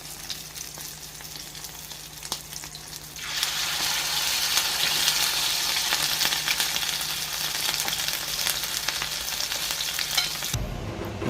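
Shrimp omelette patties (tortang hipon) frying in oil in a pan: a faint crackle gives way to a loud, steady sizzle that holds until it cuts off near the end.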